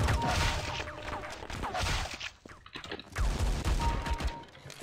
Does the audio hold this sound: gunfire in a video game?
yes